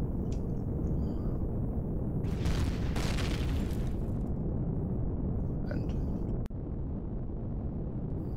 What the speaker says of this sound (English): And now we've blown up that section there.